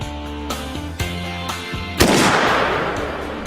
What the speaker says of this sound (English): What they've got is the Springfield 30-06, the oldest caliber rifle on the grounds